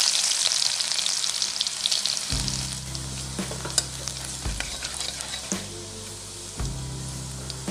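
Garlic cloves and black cumin seeds sizzle in hot oil left from frying fish, a steady bright crackle with intermittent low scraping and clanks as the mixture is stirred in the pan.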